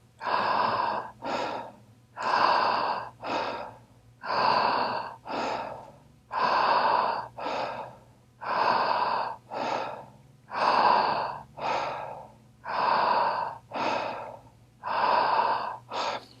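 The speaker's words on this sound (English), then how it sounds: "Let the filling of your lungs come from the movement of the diaphragm. Keep letting go on your exhale." Slow, deep diaphragm breathing exercise: long, even inhales and exhales alternate in a steady rhythm about every one to two seconds, close and clear, with no talking.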